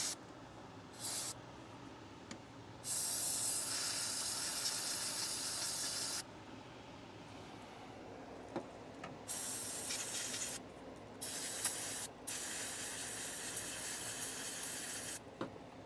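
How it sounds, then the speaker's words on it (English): Brake cleaner sprays hard from an aerosol can onto car parts in several bursts of loud, harsh hissing, some short and some held for a few seconds, with quieter gaps between them. "I'm gonna get some brake clean and spray those off real heavily"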